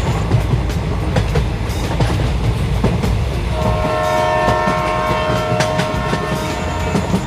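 A train runs steadily along the railway near Thiruthani, with loud continuous rumbling and rail clatter close by and a sustained horn blaring through the latter half.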